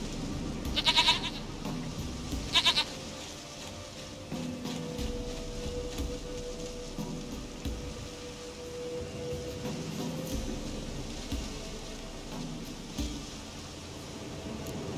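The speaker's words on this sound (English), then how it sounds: "Goat of mine, dearest, sweetest goat." A goat in The Witcher 3: Wild Hunt bleats twice in quick succession near the start, close and distinct, followed by a quiet ambient game background with no further calls.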